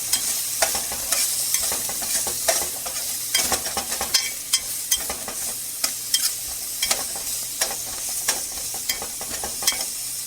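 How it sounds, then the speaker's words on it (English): A spatula scrapes and taps rhythmically in a pan over a soft continuous sizzle while green leafy vegetables cook, repeated stirring strokes close by and no voices. "stir it"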